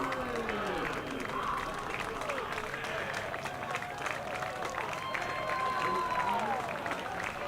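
Home crowd at a college baseball game between Trinity University and Rhodes applauding the Trinity seniors, steady sustained clapping and cheering from a distance beneath a commentator's voice.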